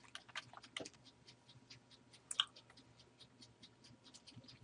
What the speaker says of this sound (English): I'm gonna start typing or changing the content as well.